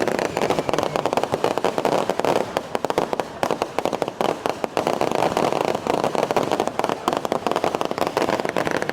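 Fireworks bursting in rapid, dense crackling volleys in Jaffna, loud and continuous with overlapping pops and bangs across the whole stretch.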